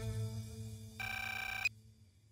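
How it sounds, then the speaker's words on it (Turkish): In a Turkish TV drama, a telephone's electronic ring sounds briefly at close range, cutting off abruptly over a low background hum in an otherwise quiet room, with no talking. "Albay Kopuz'un telefonu"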